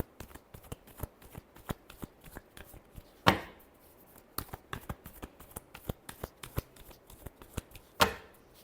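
Tarot cards are shuffled by hand, close and fairly quiet, with rapid crisp riffling flicks and two louder snapping bursts where the deck is bridged or squared.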